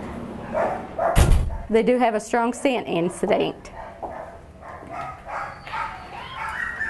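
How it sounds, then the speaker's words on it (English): Emma, a terrier mix dog at an animal shelter, gives a few sharp barks and yips close by, mixed with other dog noises and people talking. "This is Emma. She is a terrier mix."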